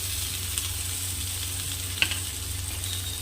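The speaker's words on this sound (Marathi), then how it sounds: "असं मिक्स करून घ्यायचं आहे परतून घ्यायचं आहे" Bitter gourd and onions stir-frying in a pan give a continuous soft sizzle with a couple of faint utensil taps, steady and fairly quiet.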